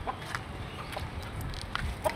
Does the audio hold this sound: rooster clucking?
yes